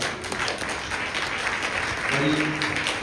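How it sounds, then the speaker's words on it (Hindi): A church congregation at Sunday worship claps loudly and continuously for Jesus Christ, with a few voices mixed into the sustained applause. "यीशु मसीह के लिए जोरदार ताली बजाइए एक बार"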